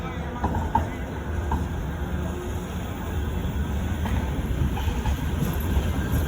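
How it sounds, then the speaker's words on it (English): A tram rumbles past nearby on a Manchester street with a steady rolling roar and faint rail clatter, busy street noise around it. "Another tram."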